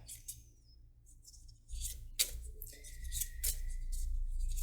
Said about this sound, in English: So I am going to shuffle until Spirit says that it is time